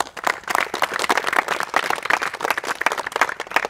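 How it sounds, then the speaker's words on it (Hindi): Students in an Azamgarh inter college classroom clap together at a teacher's request, a dense, steady patter of many hands sustained throughout at moderate volume with no talk over it. "वेरी गुड, ताली बजाओ"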